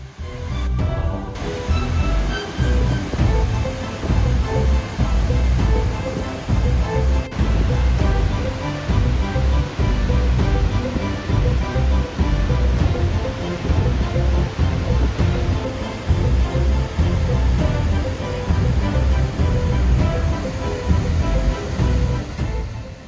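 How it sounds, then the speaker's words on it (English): Skogafoss waterfall in South Iceland roars as a dense, steady wall of rushing water, loud and close, continuous with no breaks and no voices. "Standing here, you're surrounded by the roar of waterfall,"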